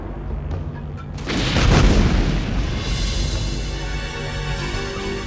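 Missiles exploding in the Beast Wars animated series: a loud, sustained booming blast that swells after a second and rumbles on as a wide, roaring wash of noise, with no voices over it.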